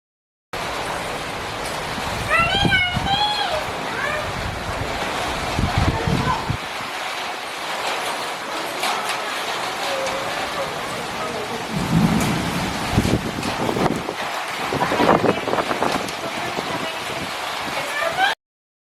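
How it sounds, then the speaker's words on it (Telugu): Heavy rain pours steadily on a rainy day, close and loud, with low rumbles of thunder rolling in and out. Bird calls and brief bursts of other sound come through over the downpour. "మీకు నేను వర్షం సౌండ్ కూడా వినిపిస్తాను, వినండి."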